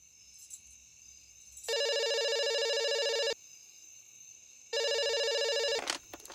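A telephone rings in a home in two long electronic bursts separated by a pause, clear and fairly close, with a faint rustle after the second ring and no speech.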